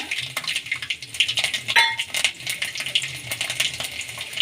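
Mustard seeds and garlic drop into hot oil in a pan for tempering, for an Andhra-style mango dal, with sharp sputtering pops and metallic clinks over a light sizzle, close and uneven, with no talking.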